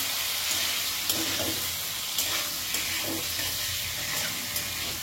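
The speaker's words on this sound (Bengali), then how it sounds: "আবারও ঢাকাটা খুলে নাড়াচাড়া করব।" Papaya sizzles in an uncovered pan while being stirred, a steady bright frying hiss broken by light, regular scrapes and taps from the spoon, heard close up.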